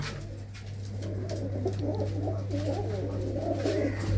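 A flock of pigeons coos steadily inside a loft in a Punjab village, layered throaty rolling calls rising and falling close by over a constant low drone.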